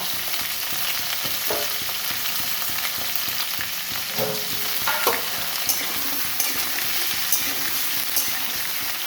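Malabar spinach stems fry in a pan with a steady, dense sizzle throughout, close and fairly loud, broken by a few soft stirring knocks and no voices.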